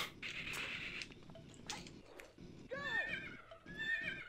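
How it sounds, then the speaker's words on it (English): In the video game Rayman 2, a horse gives loud whinnying neighs with rising and falling pitch, mixed with rhythmic clip-clop hoofbeats and game sounds, and no one talks. "It definitely neighed."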